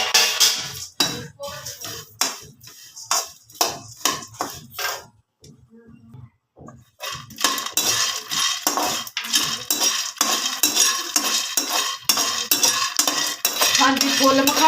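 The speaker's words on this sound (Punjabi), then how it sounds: "ਹਾਂਜੀ ਫੁੱਲ ਮਖਾਣੇ ਵੀ ਪਾ ਲਏ ਕੜਾਹੀ ਦੇ ਵਿੱਚ।" Fox nuts (makhana) roasted in a wok, stirred with a metal spoon: dense rapid scraping and rattling, close and loud, with a brief quiet pause before continuous vigorous stirring resumes, no talking.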